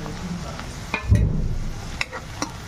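Chopped green chili and onions fry in a pan with a soft sizzle, a few sharp utensil clicks and a brief stirring rustle, close up and without speech.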